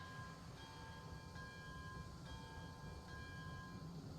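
A train sets off in the railroad simulation game RailRoads Online, a low steady rumble under repeated tonal horn blasts that start and stop in rhythmic bursts.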